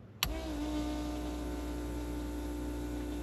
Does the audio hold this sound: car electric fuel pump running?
yes